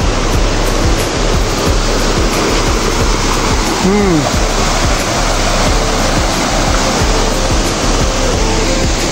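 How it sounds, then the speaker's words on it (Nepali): The Purandhara waterfall in Dang, Nepal roars as a steady, dense rush of falling water, close and loud, holding an even level throughout. "यहाँदेखि चाहिँ झरना यस्तो हो"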